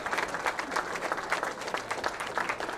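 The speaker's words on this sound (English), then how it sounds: "give a big round of applause to our 3rd place finisher" Spectators applaud the third-place finisher at a junior bowling stepladder final. The clapping is lively and sustained, with distinct crisp hand strikes standing out in a moderately loud crowd, and no one talks.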